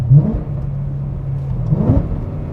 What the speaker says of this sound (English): That exhaust makes a huge difference because it really does allow you to open up the taps on the M3.